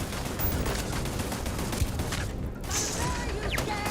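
An automated turret fires on the player in the space game Starfield, a continuous rapid-fire rattle with mechanical clatter, loud and sustained, with a short dip partway through and no talk over it.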